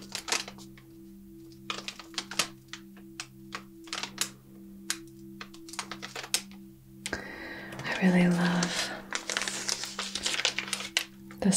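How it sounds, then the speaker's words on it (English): A paper wrapper on incense sticks crinkles up close in an ASMR setting: light, scattered crackles at first, then a denser, louder rustle of handling near the end. "Incense has like a nice paper kind of wrapper, and it's just such a nice sound."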